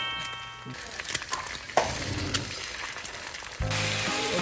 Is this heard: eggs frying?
yes